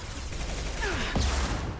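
Gunfire erupts in a Mass Effect 2 combat scene, a short burst of shots with one sharp close report over a steady background rumble.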